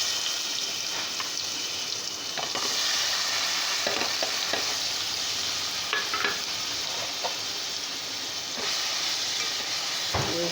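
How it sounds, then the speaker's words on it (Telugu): Curry frying in a pan, a steady loud sizzle with scraping and clinking as a spoon stirs it back and forth, no voices. "వేసి అటు ఇటు తిప్పేస్తున్నాను"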